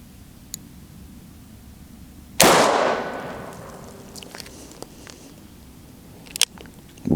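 A Smith & Wesson 29-3 .44 Magnum revolver with old wood grips fires once in double action, one sharp, very loud blast with a long ringing decay, followed by faint metallic clicks and a few small knocks.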